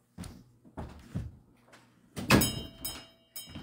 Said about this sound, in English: I'm going to shut the door because it's a little cool outside